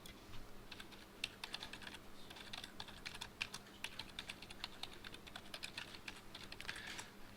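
Rapid, irregular clatter of keys on a computer keyboard as someone logs in, steady close-up typing with no voices.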